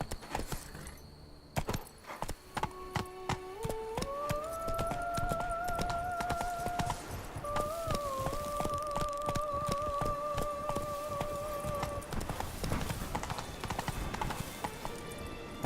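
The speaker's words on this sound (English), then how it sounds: "Run, Roach" Hooves clip-clop steadily as a horse moves at pace in the Witcher 3 video game, with a rhythmic beat running throughout and game music tones layered over it.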